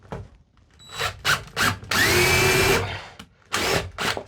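A power drill drives a wood screw into the metal ceiling of a box van. Short whirring bursts come first, then a longer grinding run and one more burst, loud and close, with no voices.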